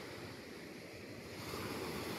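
Ocean waves washing steadily onto the seashore near a fish terminal, a constant broad surf roar with wind buffeting the microphone, no voices.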